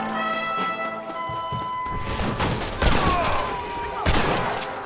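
Dense video-game gunfire from a Red Dead Redemption gunfight crackles in rapid volleys over a sustained musical bed, with sharp louder shots standing out near the end.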